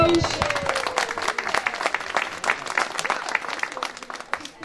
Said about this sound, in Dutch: Applaus.